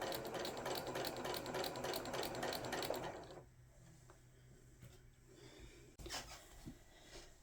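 A sewing machine stitching fabric for a Christmas stocking, a rapid rhythmic whirring chatter for about three seconds, then quiet with small handling knocks and a brief restart.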